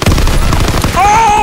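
A hand grenade goes off during a Call of Duty WW2 online match, a loud, dense blast that runs straight into continuous gunfire for about a second, followed by a steadier tonal game sound.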